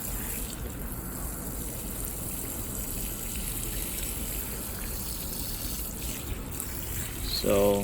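Basil plants in a Chicago rooftop garden are watered with a steady, hissing spray that runs unbroken throughout, and a voice speaks briefly at the end.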